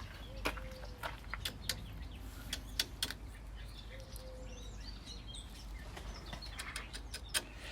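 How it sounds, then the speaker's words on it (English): Small birds sing and chirp in a garden, bursts of short high notes scattered across a low background rumble, faint and somewhat distant, with no talking heard. "There's tons of little bird song."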